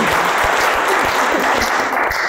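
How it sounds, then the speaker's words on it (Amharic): Audience applause at a team game show contest, a dense, steady clapping that runs at full strength for the whole stretch with no voices over it. "ጭብጨባ ይለያል"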